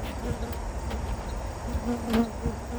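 Honey bees buzzing around the front of a smoked beehive, a steady droning hum that holds through the whole stretch, with a few slightly louder passes close by and no talking.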